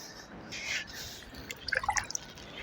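Liquid fertilizer is poured onto spinach plants in a garden bed, a soft steady splash giving way to a brief cluster of close, bright drips and trickles, with no voice.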